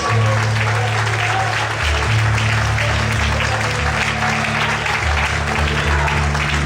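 Congregation applause during an evening church service, a steady dense clapping wash lasting several seconds over a sustained low hum of music.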